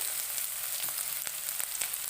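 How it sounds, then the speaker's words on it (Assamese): Onions frying in hot oil in a wok, a steady close sizzle with bright crackling spatters and occasional pops throughout, no voices. "পিঁয়াজখিনি মই এতিয়া অকণমান সময় ভাজি ধুনীয়াকৈ ৰঙচুৱা হ'বলৈ দিম"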